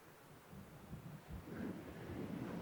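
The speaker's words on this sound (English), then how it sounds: "that's how windy it is" Low, rumbling gusts of wind buffet the microphone, swelling louder toward the end, with no voices.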